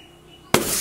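After a quiet moment, an eggshell gives way with a single sudden, sharp crack, followed by a brief crackling rush.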